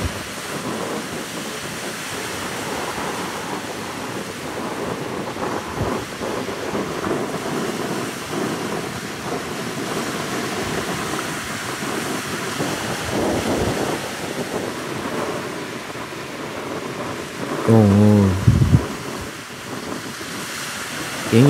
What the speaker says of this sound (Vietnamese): Sóng bờ lớn.